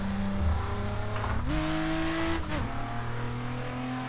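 A Toyota Supra's engine in Assetto Corsa on a hot lap at Mugello: a loud, steady in-car drone with pitch stepping up and down through gear shifts, continuous and close, with no talk.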